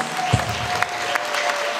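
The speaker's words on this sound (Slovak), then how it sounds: "veľký potlesk, dámy a páni" Applause from an audience at a ball's raffle as the main prize winner is announced, a short steady burst of clapping with a few sharper claps standing out.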